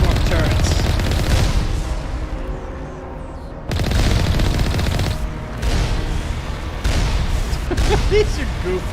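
Platform turrets fire in the Mass Effect video game, loud rapid bursts of gunfire and booming impacts in dense volleys separated by short lulls, with voices over the combat.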